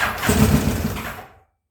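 A 1980 Kawasaki KZ1000 Pro Street motorcycle engine with problems running on choke, a loud rough close-up rumble for about a second before cutting off to silence.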